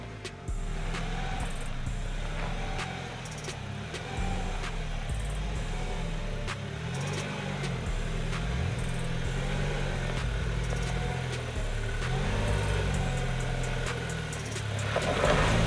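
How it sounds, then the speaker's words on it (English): A BAIC BG40 Plus SUV with a 2-liter turbo petrol engine hums along at a steady mid-pitched drone, with slight rises in revs and faint clicks over the top, heard from close by. "the BAIC BG40 Plus. It has a 2-liter turbo petrol engine."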